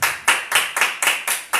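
Church congregation applauding during an evening worship service, with seven sharp, rhythmic bursts of clapping in steady succession, loud and close, with no voices over it.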